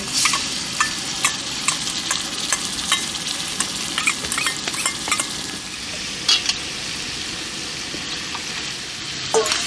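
Garlic and ginger paste frying in a hot pan, a continuous close sizzle broken by frequent scraping and clinking as a utensil stirs it, with no talking.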